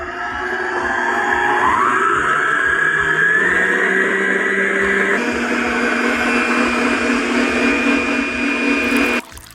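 Electric stand mixer beating royal icing for Christmas cookies, a loud steady motor whine that shifts pitch as speed changes, running continuously before cutting off near the end.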